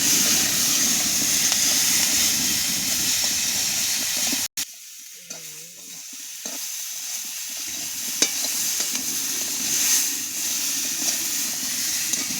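Turmeric powder being stirred into hot oil in a frying pan, a steady close sizzle with scraping stirring, briefly cut by a sharp break near the middle before the frying resumes.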